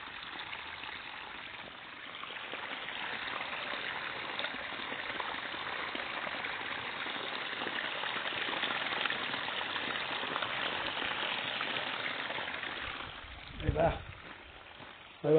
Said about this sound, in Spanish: Ahí va la agüita ya.